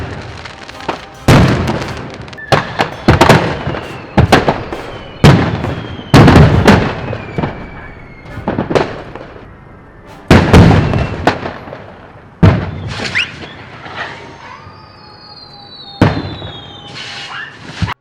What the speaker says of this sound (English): The explosion is believed to have been caused by illegal homemade fireworks